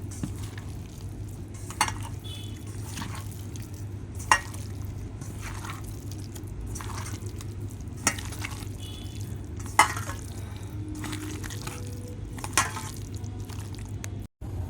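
Chicken pakora pieces being hand-mixed with bread crumbs and gram flour in a kitchen, a steady soft squishing and stirring with occasional sharper taps of a bowl or spoon, close by with a constant low hum behind.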